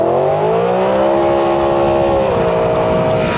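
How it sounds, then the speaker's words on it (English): A BMW M3 Competition E92 engine and exhaust rev loudly and continuously, its pitch climbing steadily then dipping briefly before holding high, with no voices over it. "it's the exhaust notes that come from this E92"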